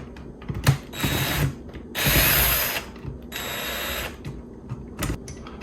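A screw being backed out of a Shark Rotator vacuum with a ratcheting driver, giving close, loud bursts of clicking and whirring a second or so long, separated by brief handling knocks.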